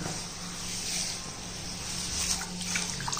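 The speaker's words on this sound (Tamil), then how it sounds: "இப்போ இந்த 1 கிலோ கம்பில் நம்ம தண்ணி ஊற்றிக்கிடுவோம்." Water poured onto one kilo of pearl millet for soaking makes a steady, soft rushing hiss for a few seconds, close and alone with no talk.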